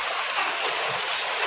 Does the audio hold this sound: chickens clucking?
no